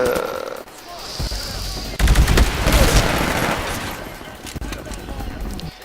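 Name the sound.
gunfire in the video game Titanfall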